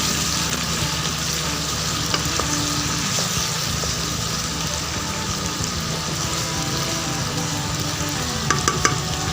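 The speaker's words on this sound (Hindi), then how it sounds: "अब हम इसमें लहसुन अदरक पेस्ट ऐड करेंगे और इसको अच्छे से मिक्स करेंगे," Garlic ginger paste frying in oil in a pan for white chicken karahi, a steady dense sizzle with occasional clinks of stirring, close and continuous throughout.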